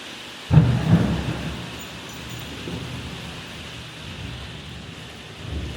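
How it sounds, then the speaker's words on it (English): Rain drumming steadily on a conservatory roof, with a low thunder rumble swelling early and fading into the constant patter, the hiss filling the space without any talking. "how beautiful the rain sounds in this conservatory"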